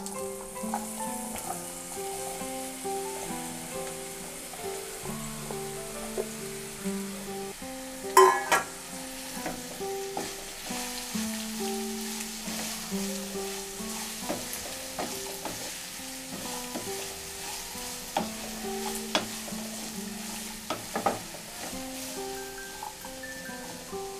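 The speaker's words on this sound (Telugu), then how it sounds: "తాలింపు వేగిన తర్వాత మనం ముందుగా కట్ చేసి పెట్టుకున్న ఆనపకాయ ముక్కల్ని ఇందులో తాలింపులో వేసుకోవాలి" Bottle gourd pieces fry and get stirred into a hot tempering, a steady low sizzle with occasional spatula scrapes and clacks against the pan, under soft background music with no talk.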